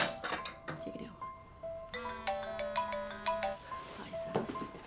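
A phone's electronic ringtone plays a bright repeating melody of chiming notes, with a voice briefly speaking over it at the start.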